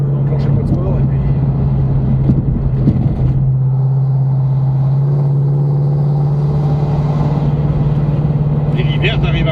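A car driven in sport mode gives a steady, loud low engine drone and road rumble throughout, with a voice talking over it at the start.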